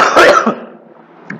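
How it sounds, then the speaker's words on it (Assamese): A person with a cough coughs once, harsh and close, followed by a fading rasp and a small throat catch. "মোৰ অলপ কাহ হৈ আছে"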